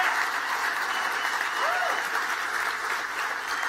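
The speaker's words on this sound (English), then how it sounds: "please give yourselves a round of applause." A room full of people at a documentary awards ceremony in New York applauds steadily, a dense wash of clapping that holds at an even level throughout.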